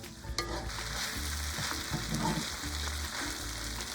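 Vegetarian long life noodles tossed with sauce in a hot pan: continuous loud sizzling with busy stirring and scraping strokes, near and alone.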